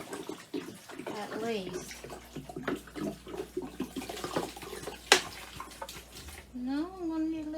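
About a gallon of water pours into a jug in a home kitchen, a splashing, gurgling flow heard close, broken by short bits of nearby talk.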